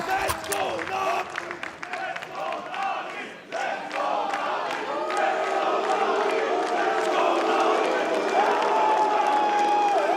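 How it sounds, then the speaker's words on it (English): Esports arena crowd at an ESL Pro League Counter-Strike match roars and cheers in a sustained, dense wash, with a commentator talking over it. "the crowd getting riled up"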